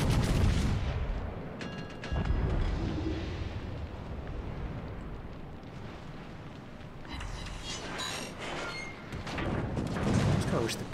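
Heavy naval gunfire booms and rumbles from the battleship HMS Nelson in a naval warfare video game, deep blasts rolling out repeatedly over about ten seconds while a voice talks in the background.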